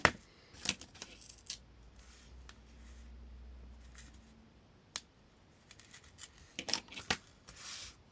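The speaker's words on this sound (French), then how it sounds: "Et on vient le couper." Scissors cutting a strip of paper for a scrapbook accordion album, a series of faint, sharp snips spread across the clip with quiet pauses between.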